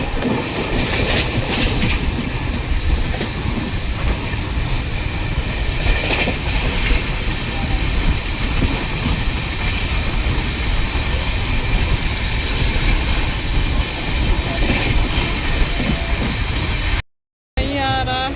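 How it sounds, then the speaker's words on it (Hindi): A train rolls steadily along the rails with loud, continuous rumbling and rhythmic clickety-clack from the wheels, heard close from inside the carriage. Near the end it cuts out briefly, and a faint squeal follows. "चल दिए हम लोग की ट्रेन।"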